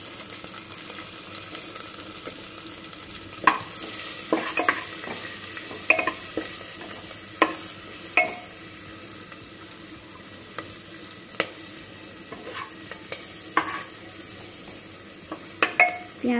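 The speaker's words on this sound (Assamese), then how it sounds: "পিয়াজখিনি অলপ ভাজি ললো" Onions frying in a pan after a little turmeric has gone in for a simple home-cooked dal dish, a steady close sizzle broken by repeated sharp scrapes and clicks of stirring, with no talk.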